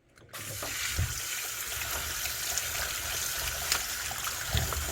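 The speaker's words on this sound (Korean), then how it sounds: "흙이 많이 묻어 있으니까 생강을 한 3-4번 씻어 보도록 하겠습니다" Fresh ginger root being rinsed under a running tap to wash off soil, a steady close stream of water splashing into a sink with a few small knocks and splashes, no talking.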